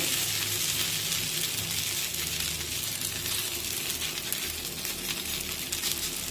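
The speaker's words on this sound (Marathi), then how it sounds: "आणि हे थालीपीठ अलगद तव्यावर सोडून घेऊ।" Loud, dense sizzling as a sabudana thalipeeth flatbread fries in ghee on a hot griddle, close up and unbroken throughout.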